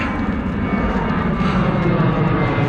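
A fixed-wing airliner passes overhead during a bicycle ride, giving a loud, steady engine roar and rushing wind noise that fill the whole moment with no talking.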